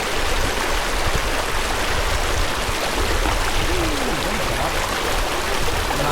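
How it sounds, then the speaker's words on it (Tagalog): Continuous rushing water from a strong, fast-flowing shallow river in Tanay, Rizal, a dense, even roar with no pauses and no voices. "Malakas ng agos."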